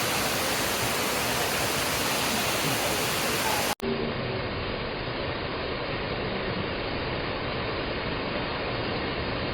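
Muppachhara waterfall in the rainy season, a dense continuous roar of rushing water filling the whole clip, interrupted by a brief cut partway through and then continuing just as loud.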